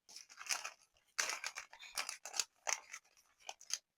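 Scissors cut through fabric while cutting out a baggy jeans pattern, a close, quiet series of crisp snipping strokes in uneven bursts, with no talking.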